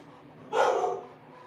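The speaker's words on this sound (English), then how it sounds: "I can hear my dog." A single dog bark comes from off to the side, a short, moderately loud woof lasting about half a second against quiet room noise.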